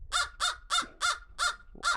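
A crow cawing six times in a steady, evenly spaced series, each call loud, harsh and close, with nothing else heard between the calls.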